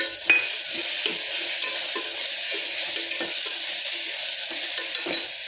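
Potatoes fry in a pan for pulao with a continuous close sizzle, broken by repeated scraping stirs and a few sharp clicks of the spoon against the pan, with no voices.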